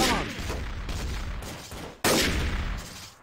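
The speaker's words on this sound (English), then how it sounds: "Wendy's shooting me!" Rapid bursts of gunfire in Garry's Mod Trouble in Terrorist Town, loud and close, in two dense volleys separated by a brief sharp break, with faint voices underneath.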